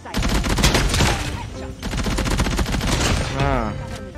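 Rapid bursts of support machine-gun fire in Call of Duty Mobile, dense repeated shots in long strings with a short pause, loud and close, with a voice briefly audible over it.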